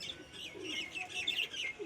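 Pigeons feeding on the ground make faint, soft calls, mostly thin high chirps with a few low murmuring coos, heard at a distance in a quiet setting with no talking.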